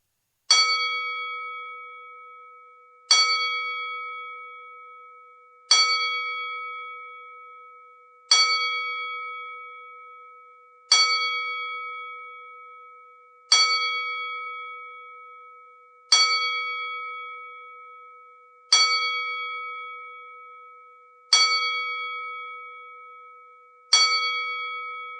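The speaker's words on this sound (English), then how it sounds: "We will now do a 10-bell salute in celebration of Terry Funk's and Bray Wyatt's" Ten evenly spaced strikes of a single bell ring out as a salute at a professional wrestling tribute, each bright tone decaying slowly before the next, loud and alone with no talking.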